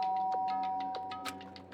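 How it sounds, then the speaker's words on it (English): A soft electronic doorbell chime from the video game Danganronpa 1.2 Reload rings with a steady sustained tone and light repeated ticks over a quiet background. "not making a sound, and pressed the doorbell"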